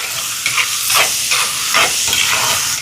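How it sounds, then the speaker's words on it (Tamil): Tomatoes sautéing in a pan for prawn curry give off a loud, close, steady sizzle, with a few stirring scrapes rising over the hiss before it cuts off abruptly. "தக்காளி கொஞ்சம் வதங்கட்டும்."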